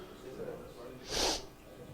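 A single short sneeze, a sharp breathy burst during a church Sabbath service, in a quiet room with faint background murmur.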